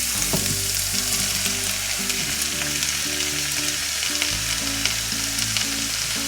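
Chestnut mushrooms fry in oil with garlic and parsley, a steady loud sizzle with a constant hiss close to the pan, with occasional soft stirring knocks.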